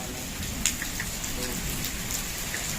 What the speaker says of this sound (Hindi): बारिश तेज हो चुकी है।